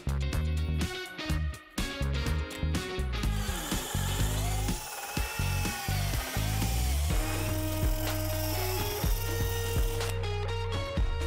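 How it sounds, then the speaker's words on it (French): A spade bit bores into a wooden workbench beam, giving a loud, sustained power-tool whir with shifting pitch as it cuts, framed by brief bursts of tool noise at the start and end, with no voices. "prenez une mèche papillon du même diamètre que les tenons"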